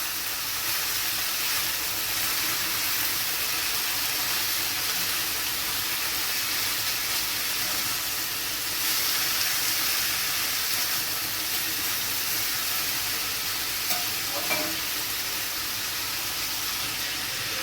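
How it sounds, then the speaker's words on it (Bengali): A steady, soft sizzle and hiss of cabbage frying in a hot pan continues throughout, with a faint clink near the end. "বাঁধাকপিটা একটু ভাজা ভাজা হয়ে গেছে"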